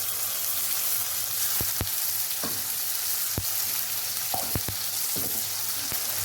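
A masala of ginger, garlic, dried chili, coriander and cumin powder fries with onions for a crab curry, giving a loud, steady, hissing sizzle with a few sharp clicks of a utensil against the pan.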